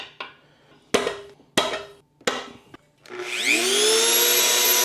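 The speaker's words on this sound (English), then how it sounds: "This Dremel tool is muy caliente" A Dremel rotary tool with a cutting wheel, used on a stuck woodruff key during a Yamaha 200 HPDI outboard water pump repair, gives four sharp metallic taps, then spins up into a loud, rising high-pitched whine up close.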